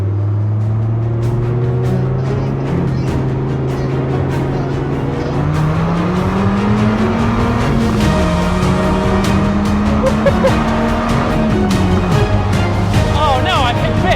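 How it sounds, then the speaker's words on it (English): Old and new Toyota Supra cars in a roll race from 30 mph, with a loud engine drone climbing steadily through the gears and dropping at each shift, heard from inside the car while someone talks. "We're both going to accelerate up to 30 miles an hour."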